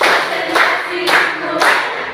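Rhythmic hand clapping in even groups, close and loud, with sharp repeated claps roughly every half second, in a classroom clapping exercise.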